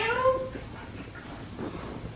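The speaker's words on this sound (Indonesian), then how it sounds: "Kucing tetangga." A neighbour's cat gives a clear, fairly close meow at the start, followed by quieter rustling room noise with no further calls.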